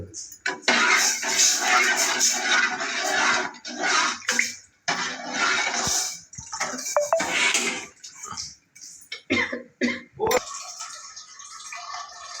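Water pours and splashes into a container nearby, with clattering of pots or metal and brief stops, a voice talking now and then.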